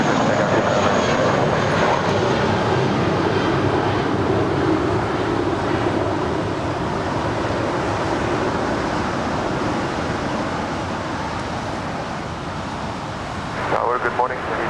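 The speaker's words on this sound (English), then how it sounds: "That was JetBlue Airways and the JetBlue Vacations livery. Flight 1463 heading to Cabo on an A320" JetBlue Airways A320 taking off at Los Angeles International Airport, a broad sustained engine roar that slowly fades into the distance, with a short burst of voice near the end.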